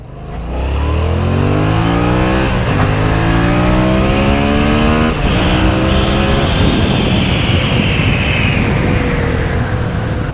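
A Yamaha MT-07 motorcycle engine revs up through rising gears during a ride, a close continuous roar with strong wind noise, running steadily from start to finish.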